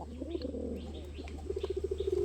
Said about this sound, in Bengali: অ্যাকচুয়ালি প্রতিটা কবুতর হচ্ছে ডাকের কবুতর